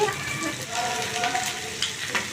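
Chicken pieces fry in a pan with ground spice powder over a low flame, a steady close sizzle with occasional stirring scrapes, for restaurant-style chicken fry piece biryani.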